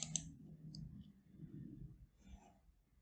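A computer mouse gives a few quiet, crisp clicks, a quick pair near the start and another later, in an otherwise hushed room.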